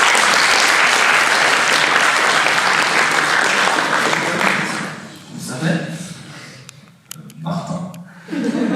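Loud audience applause greets a volunteer at a public speaking competition final, a dense wash of clapping that fades after a few seconds into scattered claps, murmurs and light laughter.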